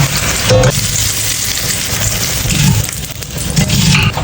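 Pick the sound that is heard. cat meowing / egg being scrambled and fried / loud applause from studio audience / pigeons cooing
egg being scrambled and fried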